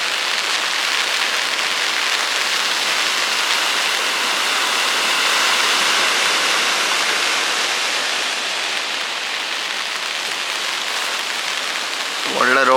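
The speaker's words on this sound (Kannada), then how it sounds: "ಮಳೆ ಜೋರು ಬಂತು" Heavy rain pours steadily and loudly for the whole stretch, a dense even hiss of drops on surfaces near a fishing spot, with no talk over it.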